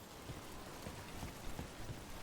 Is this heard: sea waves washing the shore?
no